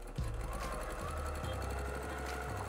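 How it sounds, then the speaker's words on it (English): A sewing machine stitches quilt binding, running fast and steady with a loud, close mechanical chatter and rhythmic needle clatter throughout, no voices. "And now I'm just going to begin stitching in the new direction, encouraging as I go."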